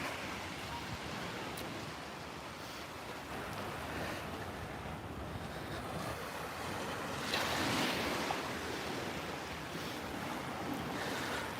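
Soft, continuous surf washes in on Portobello Beach in Edinburgh, heard at a distance with light wind buffeting the microphone and a gentle swell in the waves toward the end.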